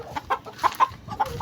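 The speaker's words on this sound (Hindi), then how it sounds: "आप पकड़ लेते हीरा की मुर्गी को जो कि यहाँ पे कोड़ा खो के बैठी हुई है।" A hen settled on her spot gives soft, short clucks, about six spaced murmurs in a quiet farmyard setting, close and fairly faint with no talking.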